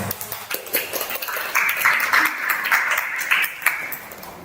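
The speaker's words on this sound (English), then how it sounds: "give a huge round of applause to all 10 finalists" Audience applause for ten English speech competition finalists, steady dense clapping from a crowd sustained throughout, with a few sharper claps standing out near the end.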